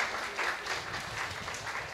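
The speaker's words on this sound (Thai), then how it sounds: "เยี่ยมปรบมือให้หน่อยครับ" Audience applause in a hall, a dense steady patter of many hands clapping at moderate distance, brief and fairly soft.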